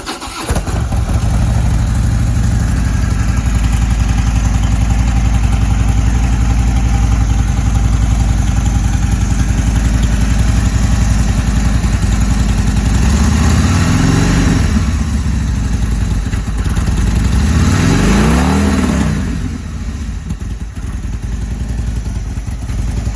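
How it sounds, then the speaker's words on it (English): A 2016 Harley-Davidson FLD Dyna Switchback V-twin rumbles at idle, loud and close. Two throttle blips swell and fall back before it settles into a lumpy, steady idle again. "That's gonna be a nice sounding, solid running bike right there."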